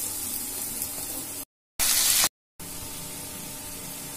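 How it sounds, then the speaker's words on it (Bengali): Potatoes frying in hot mustard oil in a wok give a steady, close hiss of sizzling, broken by two brief silent gaps and a louder burst of sizzle between them. "আমরা আলুটাকে ভেজে নেব।"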